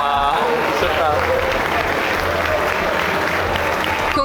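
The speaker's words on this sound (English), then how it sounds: "Please, let's give them a round of applause" Sustained audience applause for coffee competition winners at the Best of Panama, loud and continuous, with a presenter speaking over it at the start.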